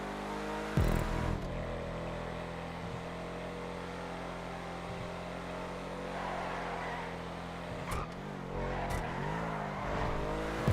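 Engine of the Canis Freecrawler off-road vehicle in the GTA 5 video game, a steady droning hum that swells and rises in pitch as it revs, with a few brief thumps along the way.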